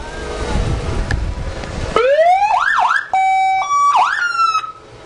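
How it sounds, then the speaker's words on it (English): After some background rumble, the siren of a restored 1991 California Highway Patrol Ford Crown Victoria starts up close and loud, sweeping through quick yelping whoops and steady tones before cutting off. "Now go ahead and hit the siren there."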